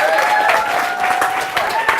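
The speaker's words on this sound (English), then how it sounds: "massive round of applause?" Audience applause at a speaker event, a dense steady wash of clapping from a crowd lasting throughout, with a continuous tonal whine running beneath it.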